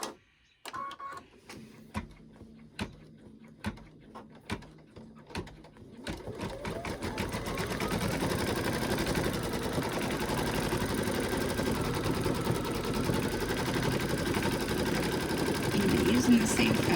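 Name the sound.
embroidery machine stitching placement line for monkey bib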